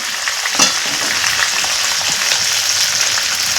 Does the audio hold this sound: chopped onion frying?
yes